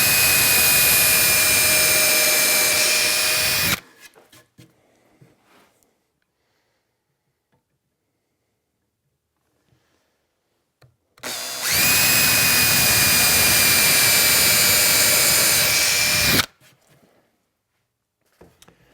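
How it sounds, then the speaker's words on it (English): A power drill bores a 5/32 inch hole through a hardwood top piece into plywood underneath, two loud, steady high-pitched whining runs of a few seconds each separated by a long quiet pause. "I'm going to drill my 5/32 inch hole all the way through the top piece and into the plywood underneath"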